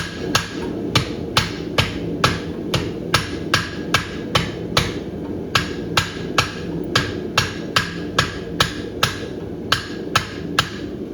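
Steady, loud hammer blows on a hot horseshoe at a farrier's forge, ringing in a regular rhythm of roughly two strikes per second, close up and alone with no talk.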